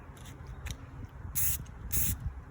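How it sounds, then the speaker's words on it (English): Two short hissing bursts of spray paint, close by, separated by a brief pause, over faint background noise on a windy day. "I'm just going to go ahead and short burst spray this right over"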